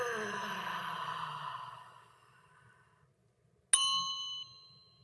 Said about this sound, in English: This is one of the main tuning forks I use when I'm clearing the field.